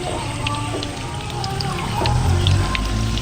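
Potato and egg snacks frying in hot oil, a steady loud crackling sizzle with a low bubbling rumble that swells slightly toward the end.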